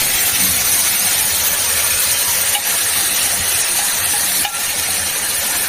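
Water poured into a hot pan of curry for an ichor katla kalia hisses and gushes loudly and steadily, with a dense broadband rush that barely lets up, heard alone without talk.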